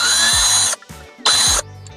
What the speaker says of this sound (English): we go ahead and take these 3 screws out using our T20 drill bit